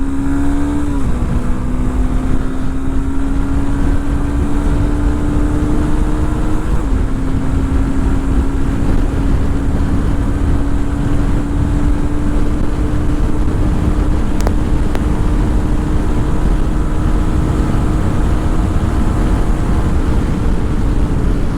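A Honda NX200 motorcycle's 184cc engine drones steadily at highway speed, loud and continuous, with a sustained pitch that shifts up slightly after a gear change, plus heavy wind rush.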